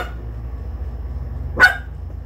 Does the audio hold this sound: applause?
no